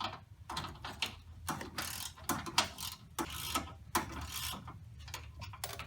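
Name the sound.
ratchet tightening Mustang rack and pinion bolts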